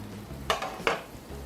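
Beer-braised sausages are flipped in a pan: two quick scraping clatters of a utensil against the pan over a low, steady background hum.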